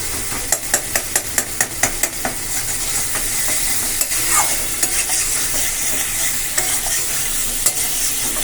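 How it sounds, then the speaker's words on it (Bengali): Spices and small, well-boiled potatoes with eggs being stirred and sautéed in a pan: a steady close sizzle with a run of sharp spatula scrapes and clicks early on, then more scattered scraping over continuous frying. "দেখো ভালো করে মশলা কষিয়ে নিচ্ছি"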